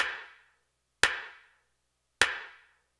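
Three sharp, isolated handclaps spaced about a second apart, each followed by a short, fading room echo.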